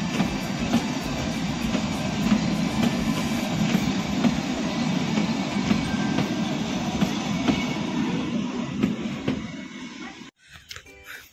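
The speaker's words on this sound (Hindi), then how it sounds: "वहाँ से ट्रेन चली गई और हम आ गए रेलवे ट्रैक पे।" A train rolls past on a hill railway track near Summerhill, Shimla, a loud continuous rumble with rhythmic wheel clatter that suddenly drops away near the end.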